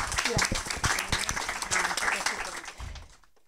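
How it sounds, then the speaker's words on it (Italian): An audience at an Italian literary prize ceremony applauds a jury representative, with dense, lively clapping that carries on steadily for about three seconds and then stops abruptly. "facciamo un applauso"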